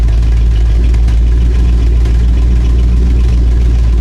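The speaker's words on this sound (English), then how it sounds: "But I do have a valve tick, and I'm still getting a little bit of backfire noise through the exhaust." A Chevrolet small-block 350 V8 with a valve tick and exhaust backfire issue idles steadily, a loud, continuous low rumble close by with no talking.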